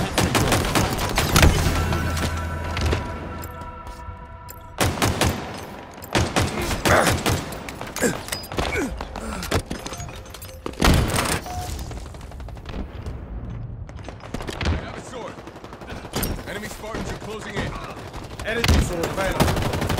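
Rapid automatic gunfire and heavy booms in online Halo Infinite multiplayer on Xbox Series S, with dense bursts of shots continuing through most of the stretch, loud and close, with some game voice chatter mixed in.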